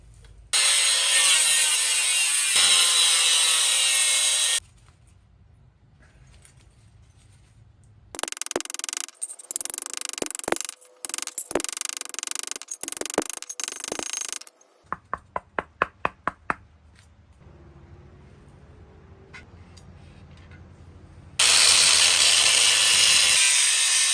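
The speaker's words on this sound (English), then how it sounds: "just get a piece of exhaust pipe, cut it down the middle, hammer it out, flatten it" A length of exhaust pipe is cut down the middle to make a small bracket for a budget turbo build on a 2.5 five-cylinder VW Jetta, with long loud bursts of harsh grinding-wheel cutting broken by pauses and a rapid run of sharp clanks.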